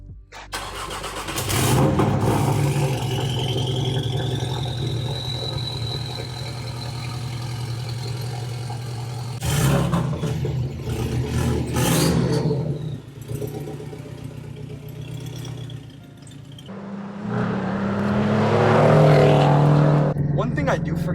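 A lowered Porsche sports car cranks and fires up, settles into a steady idle, then revs and pulls away with rising engine pitch, loud and close, with a voice heard at times.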